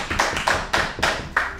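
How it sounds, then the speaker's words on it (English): Audience clapping at a comedy show in Theatre Royal Stratford East, a handful of sharp, uneven claps in loose bursts over under two seconds, close and fairly loud. "Please give him a round of"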